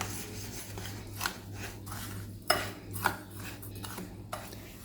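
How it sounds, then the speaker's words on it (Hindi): Sugar powder stirred with food colour in a bowl, heard as soft scraping and rubbing with a few light clinks of a utensil against the bowl, quiet and close. "अब इसमें मैं डाल दूँगी फूड कलर, और फूड कलर डाल के भी हमने इसको अच्छे से मिक्स कर लेना है"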